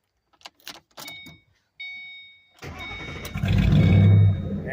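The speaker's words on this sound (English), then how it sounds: "And when I start it up." A 2006 Ford Mustang GT automatic cranks and fires up after a few light clicks and jingles, then settles into a loud, close idle with a brief rev swelling and easing.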